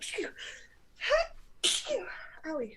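A person sneezes sharply up close, and short spoken remarks and a pained exclamation come right around the sneeze.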